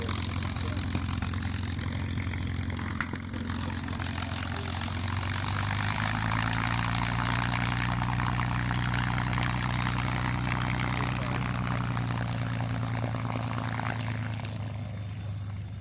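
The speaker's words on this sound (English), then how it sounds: "here we have a P-51 Mustang sitting on the runway, and I'll just let you listen to that engine sound" A P-51 Mustang sits on the runway with its engine idling, a loud, steady, deep droning rumble that rises slightly in pitch partway through and holds on, with faint crowd noise around.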